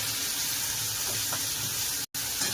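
Chopped onion hits hot oil in a pan for upma and sizzles in a loud, steady, close hiss that continues throughout, broken by one very brief dropout.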